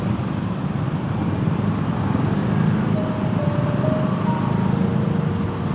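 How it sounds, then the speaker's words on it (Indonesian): A motorbike riding slowly along a busy Bandung road, its steady engine drone mixed with surrounding traffic noise and a faint tonal whine partway through. Continuous and fairly loud, with no talking. "Kita betul-betul pelan nih memakai atau memacu kendaraan roda 2 ini."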